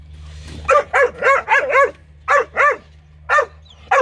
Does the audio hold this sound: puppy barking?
yes